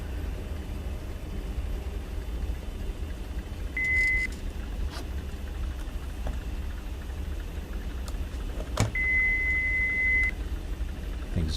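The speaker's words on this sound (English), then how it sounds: "Why are we getting beeping sounds?" Cockpit warning beeps in the X-Plane 11 flight simulator, two steady electronic tones, one short and one longer, sounding clearly over a constant low engine hum with no talking.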